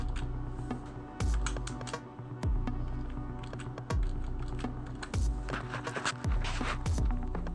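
Keys clatter on a computer keyboard in quick, uneven bursts with short pauses, close and clear with no talking.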